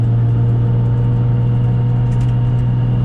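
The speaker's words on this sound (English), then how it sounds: "we need to warm up the engine anyway" A 900 hp R32 Nissan Skyline GT-R engine idles steadily and loudly nearby while warming up, with a deep, even rumble and no revving.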